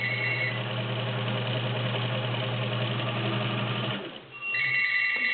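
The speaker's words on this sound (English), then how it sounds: "And now, of course, I get a phone call." A telephone rings in short bursts at the start and end, over the loud, continuous hum of a nearby heavy-duty sewing machine that runs steadily and then briefly drops off.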